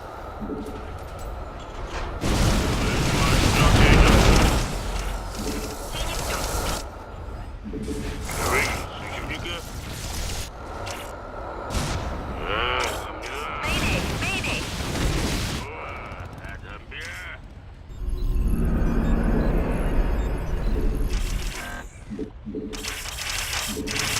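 Airstrike explosions in StarCraft II form a dense, loud stretch of booming blasts and mechanical clatter. Heavy rumbling bursts recur across the clip, with game voices speaking over parts of it.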